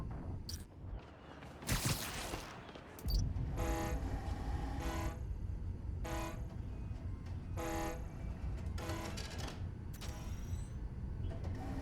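A train rumbles past in Spider-Man: Miles Morales, loud and close, while its horn sounds in a series of short, evenly spaced blasts over the continuous roar of the rails.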